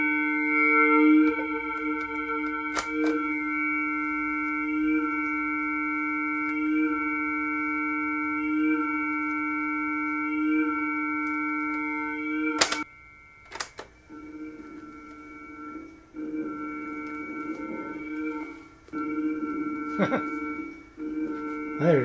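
A steady synthetic drone pulses in a repeating tape loop, broken by sharp clicks and dropouts, then continues with grainier, uneven playback.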